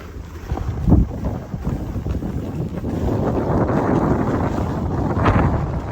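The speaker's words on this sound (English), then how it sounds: "the wind's coming around from the south a bit now" Wind at the Stowe, Vermont ski area buffets the microphone in a loud, continuous low roar with gusty swells.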